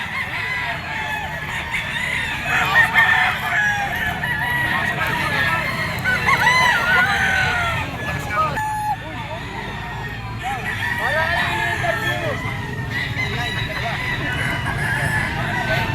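Roosters crow and chickens cluck among gamefowl, including a green-legged street comb stag, in a busy yard. Crowing calls recur over steady clucking and background noise, with someone talking over them at times.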